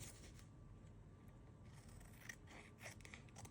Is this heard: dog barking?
no